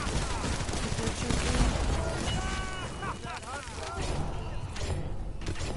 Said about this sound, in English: The only thing I can do is shoot my gun at this point